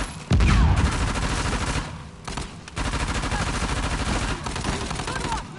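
Loud, dense gunfire from the video game Uncharted: The Lost Legacy, rapid bursts of shots and a heavy blast near the start, with a brief lull before sustained shooting resumes to the end.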